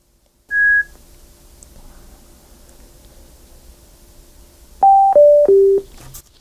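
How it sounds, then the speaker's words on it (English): A single short electronic beep from a Denon Envaya DSB-250 Bluetooth speaker entering pairing mode, a pause with faint hiss, then three quick descending beeps in a row, clear and close. "So I'm listening for the first single beep and then three beeps after 6 seconds."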